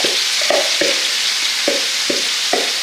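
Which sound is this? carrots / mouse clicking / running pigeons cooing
carrots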